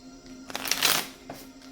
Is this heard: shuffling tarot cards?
yes